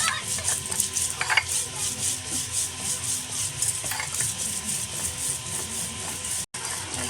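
Mustard seeds and green chillies being ground into a paste, a continuous gritty grinding and rubbing texture with a faint mechanical whir, steady and close, with no clear talk.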